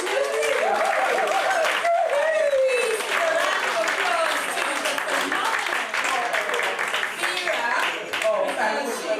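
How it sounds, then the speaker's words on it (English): Loud crowd applause and cheering fill the room while a voice speaks over the clapping near the start. "A round of applause."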